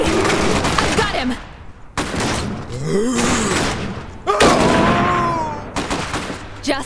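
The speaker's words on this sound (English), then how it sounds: "They're shooting!" Gunfire and booming impacts from the real-time strategy game Iron Harvest 1920 come in loud bursts, with shots and thuds breaking out repeatedly across the battle under shouted in-game voice lines.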